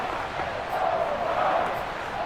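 A New York stadium crowd in the Madden 22 football video game roars steadily, a broad continuous wash of cheering with no talk over it.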